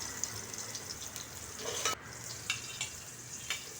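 Onion with garlic sautéing in a pan for Filipino caldereta, a steady, fairly quiet sizzle with a few soft stirring scrapes and clicks over it, no voices.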